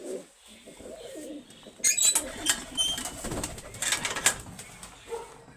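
Red Cheena pigeons coo in soft, repeated murmurs, joined midway by brighter chirps and a flutter of activity that rises and falls across the stretch, with faint talk now and then.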